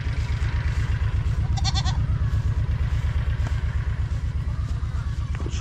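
Goats on a small farm give a few short bleats at mid-distance, heard over a loud, steady rhythmic engine-like drone that pulses continuously throughout.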